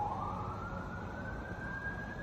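A distant emergency vehicle siren, likely a rescue squad, wails faintly across an outdoor vegetable garden, its tone sliding slowly upward over steady background noise.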